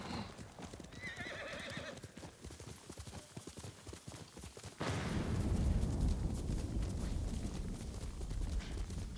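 A horse in Ghost of Tsushima whinnies loudly, then hooves pound in a fast, heavy gallop that grows louder and continues steadily to the end.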